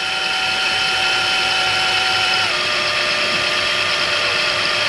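A power drill whirs continuously and loudly while drilling a hole in a truck build, a steady high-pitched mechanical whine whose pitch dips slightly partway through.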